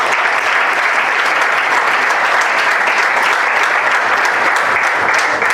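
Steady, dense applause from the audience at the 2019 Togo National Debate Championships final fills the room at close range, holding an even, unbroken level with no voices standing out.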